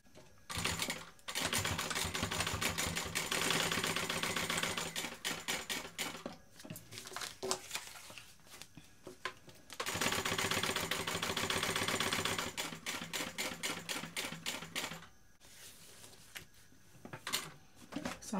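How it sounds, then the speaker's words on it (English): A sewing machine stitches a BeHip 2.0 bag in long, close, loud bursts of rapid needle chatter, separated by brief pauses and slower starts as the seam is stitched and backstitched. "I'm going to sew on either side of these, and I'm going to backstitch very well at the top"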